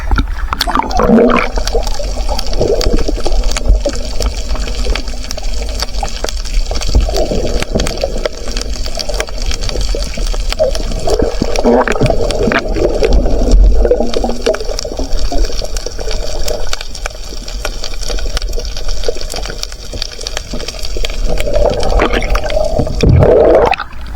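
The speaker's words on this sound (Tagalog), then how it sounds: "Malakas nga lang yung agos." A strong water current flowing past, a loud continuous gushing and churning with bubbling surges and low rumbling, heard close and alone without voices.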